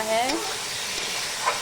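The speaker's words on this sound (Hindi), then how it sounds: "थोड़ा गोल्डन कलर आ जाए तब तक भूनेंगे प्याज को।" Chopped onion and garlic fry and sizzle in a pan for a village-style Indian mushroom curry, with a steady close hiss and a few scraping stirs; a faint voice is heard briefly at the start.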